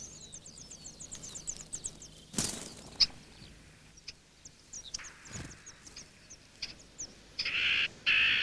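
Bluethroat and common whitethroat warblers call around their hidden nest near coastal sea dikes, giving clusters of high chirps and trills amid rustling and a few sharp knocks, ending with bursts of louder buzzy calls.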